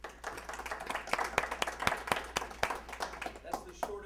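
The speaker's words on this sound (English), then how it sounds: "Give him a round of applause." Sparse clapping from a small audience at a business event, distinct individual claps in an uneven rhythm, moderately quiet, with some voices mixed in.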